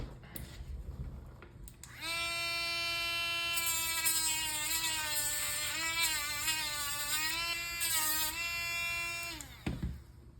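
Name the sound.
Dremel rotary tool grinding down pin on action figure arm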